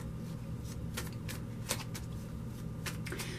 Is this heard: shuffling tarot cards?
yes